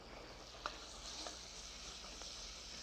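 Scallions cooking in a pan for a sauce over fairly high heat give a soft, steady hiss of sizzling with a few faint stirring scrapes, low and continuous, with no talking.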